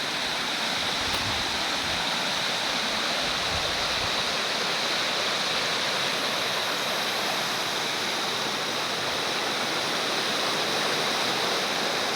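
A river in Liliw, Laguna, Philippines flows with a steady, full rushing roar, unbroken and close, with no voices over it.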